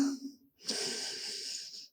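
A deep inhalation drawn in child's pose during a yoga session, a soft broadband breath rising after a brief pause and holding steadily for over a second, close and moderately quiet.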